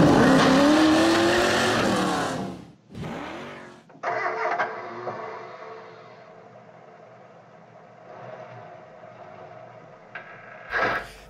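A Datsun Patrol driving during a commercial shoot: a loud engine surge that cuts off abruptly, then a quieter engine hum that idles along and swells briefly near the end.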